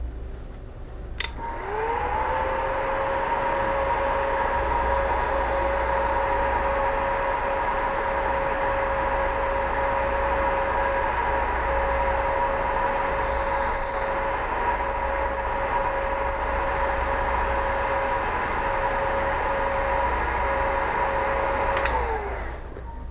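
A heat gun blowing steadily on heat shrink tubing over electrical connectors, a loud continuous whine and rush that starts abruptly, holds steady for about twenty seconds, then cuts off.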